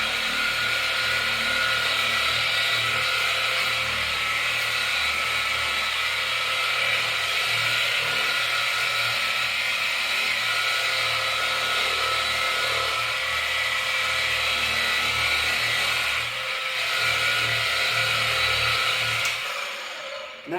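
A continuous steady whir of an electric polisher buffing paint sealant onto a car's wing, running loud and close throughout with slight shifts in pitch as the pad moves.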